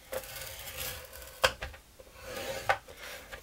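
Bone folder pressed along card stock to crease fold lines for a handmade voucher card, heard as soft rubbing and scraping strokes with two sharper clicks, close and fairly quiet.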